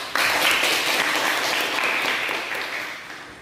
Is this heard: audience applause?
yes